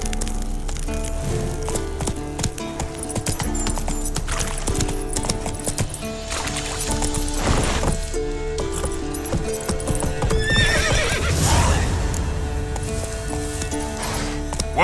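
Roach, the horse in The Witcher 3: Wild Hunt, gallops with rapid, steady hoofbeats and lets out a loud, close whinny partway through.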